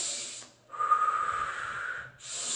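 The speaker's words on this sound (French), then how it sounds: "la respiration, ça doit être ventrale" Slow, deep belly breathing demonstrated for a shyness lesson: a long audible breath, then brief pauses, with airy hissing breath sounds close to the microphone.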